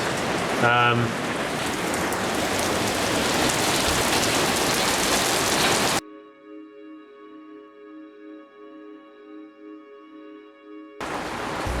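Steady rain falling in England pours down for about six seconds as a dense hiss, then cuts off abruptly to a quieter section of sustained tones.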